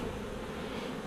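A steady, soft hum of honey bees buzzing around a weak hive during an inspection, a continuous close drone with no voices.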